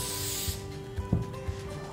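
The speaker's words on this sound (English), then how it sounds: "We want to spray our roll pan." A can of cooking spray hisses in a short burst over a roll pan, loud and close, followed by faint rubbing and light taps.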